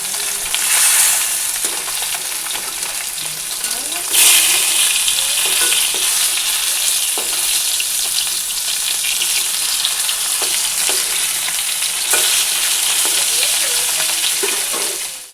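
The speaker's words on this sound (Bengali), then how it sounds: "এই যে মাছ ভাজা বসিয়ে দিয়েছি" Fish frying in a home kitchen pan gives a loud, continuous sizzle and crackle with occasional stirring scrapes, with no voices over it.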